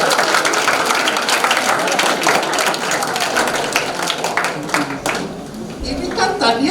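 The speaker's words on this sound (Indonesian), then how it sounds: "Tepuk tangan dong." An audience of seminarians at a retreat with a priest breaks into dense, sustained clapping, steady and fairly loud throughout with no clear pause.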